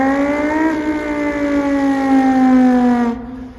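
A voice imitates an Audi R8 V10 engine revving: one buzzy, sustained tone that slowly drops in pitch for about three seconds, loud and close, then cuts off.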